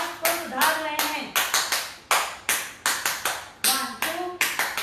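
Rhythmic hand clapping in a group exercise, sharp claps in steady counted bursts, close and loud, with a voice speaking over them.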